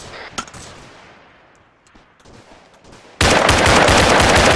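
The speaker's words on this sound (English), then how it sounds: "They're shooting at us from every direction here, though." Combat gunfire during a firefight in which troops come under shots from several directions: a few distant cracks give way to a sudden loud, sustained burst of close automatic fire.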